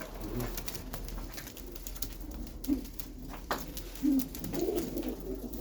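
Domestic tumbler pigeons of a Batman flight breed coo in an earthen coop in Diyarbakır, soft low coos recurring every second or so near at hand, with faint voices and rustling in the background.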